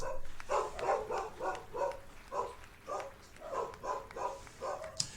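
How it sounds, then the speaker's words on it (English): Dogs barking repeatedly in a steady, relentless rhythm, somewhat distant, with overlapping yaps continuing throughout without a break. "That main bark that you can hear, just going and never easing up"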